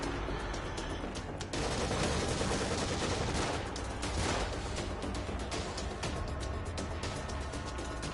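Dense, continuous gunfire from a firefight in the horror video game The Evil Within, on AKUMU difficulty, with sharp shots overlapping into a loud, steady barrage that runs the full length without talk.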